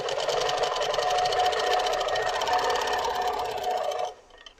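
A Moxie XL 18-inch longarm quilting machine stitching: a loud, rapid, steady mechanical whir and needle chatter for about four seconds, then it abruptly stops.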